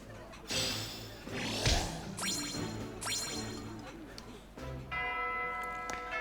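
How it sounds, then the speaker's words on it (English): Church bells ring out in Fire Emblem: Three Houses, a layered series of bright struck tones over game music and ambience, with a stronger strike near the end. "Here goes the bell."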